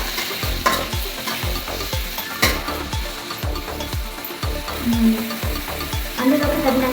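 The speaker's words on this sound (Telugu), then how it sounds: "ప్యాన్లోకి ఎర్రగడ్డ వేసుకోవాలి." Onions sizzle and fry in a pan with cumin and curry leaves, a loud steady crackle broken by regular scraping stirs of a spoon against the pan, close up and with no talk.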